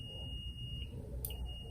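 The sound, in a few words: clamp meter continuity test beep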